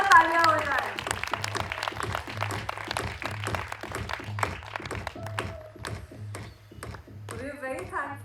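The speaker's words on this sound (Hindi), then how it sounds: "जोरदार तालियां हो जाए" An audience at a song launch event breaks into applause, with a dense patter of clapping over a pulsing music beat, and voices are heard near the end.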